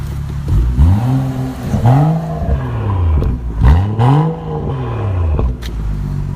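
A BMW M Performance SAV's engine revs hard several times in quick bursts through a modified exhaust, roaring up and dropping back between each rev, close and loud.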